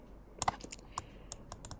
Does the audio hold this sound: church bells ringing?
no